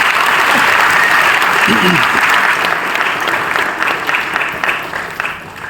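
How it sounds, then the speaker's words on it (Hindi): A crowd at a business seminar gives loud, sustained applause that stays strong throughout and thins slightly toward the end, while a voice briefly sounds over it. "एक बार मैं जोरदार तालियां चाहूंगा मिस्टर इरफान खान के लिए, जोरदार तालियां।"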